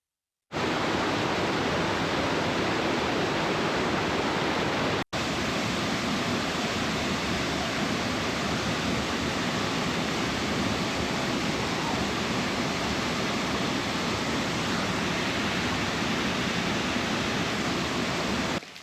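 Loud, steady rush of a stream near a Spanish van park in Granada, a dense unbroken roar that fills the whole clip with one brief dropout early on.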